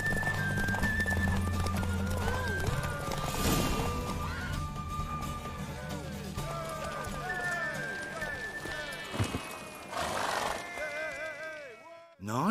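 In The Witcher 3 video game, a horse gallops with rhythmic hoof clip-clops and an occasional whinny, heard under a man's speech with game music and effects.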